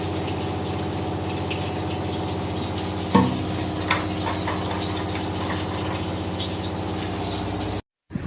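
Pointed gourd and potato stir-frying in a pan make a steady hiss and stir over a droning hum, with a single sharp knock partway through and a brief cut near the end.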